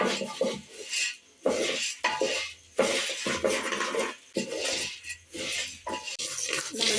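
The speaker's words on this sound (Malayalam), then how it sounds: "അരി ഇട്ട് കൊടുക്കുകയാണ്" Red matta rice is dry-roasting in a pan for laddu, its grains rattling and scraping against the metal with clinking stirs that come in uneven bursts with short pauses.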